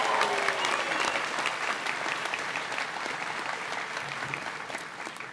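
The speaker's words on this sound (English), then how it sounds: "So let's begin by giving them a round of applause." A large commencement audience applauds the graduating class of 2015, a dense, steady wash of clapping that fills the hall and slowly tapers toward the end.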